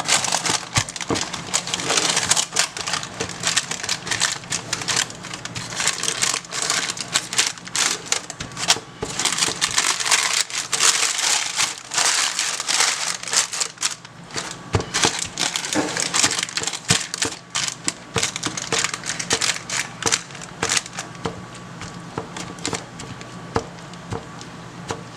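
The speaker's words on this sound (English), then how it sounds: "So you're gonna press it down in the corners." Granola bar mixture pressed firmly into the corners of a pan: dense, continuous close-up crunching and crackling with rapid scraping ticks throughout, and no talking.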